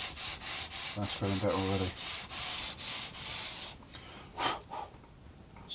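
Sandpaper rubs over rough parts of a Squier guitar in quick, close scratchy strokes, then a voice speaks briefly before a few softer final rubs.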